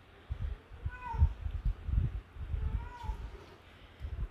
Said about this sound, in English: if you hear my cat